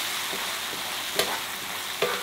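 Hake with green sauce and wine frying in a pan, a steady close sizzle as the wine cooks off, with two sharp scrapes of a spoon stirring against the bottom.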